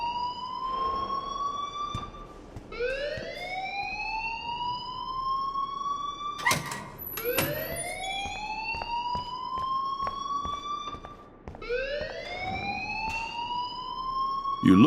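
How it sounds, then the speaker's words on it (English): A loud alarm wails in the Life Is Strange video game, its rising siren sweep repeating in three long cycles that climb and hold, continuous and close with no speech over it. "please turn off that alarm since that's your job"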